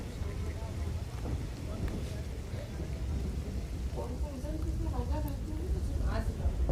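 Heavy monsoon rain pours down steadily over a busy bus station area flooded knee-deep, a dense continuous roar with some low rumbling, while a voice talks over it throughout.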